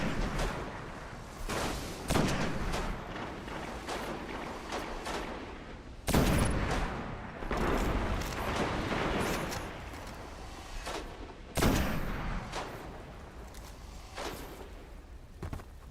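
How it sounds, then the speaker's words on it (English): Gunfire in a shooter video game: scattered distant shots and a few sharper, louder bursts at intervals over a steady background din, with no speech. "Who is still shooting?"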